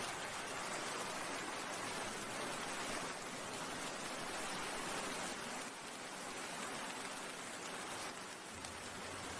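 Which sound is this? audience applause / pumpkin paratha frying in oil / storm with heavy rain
storm with heavy rain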